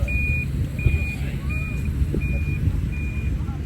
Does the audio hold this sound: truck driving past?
yes